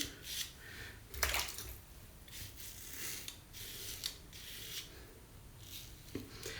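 Safety razor with a blade on about its fifth shave, dragged across a couple of days' facial stubble, giving close, quiet, rasping scrape strokes in repeated passes with brief gaps between them.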